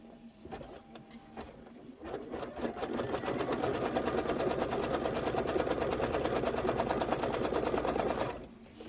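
A computerized sewing machine runs a steady, fast stitching pattern through quilt fabric for a table topper. A few clicks come first, then a loud, continuous, close mechanical whir runs evenly for about six seconds before it stops.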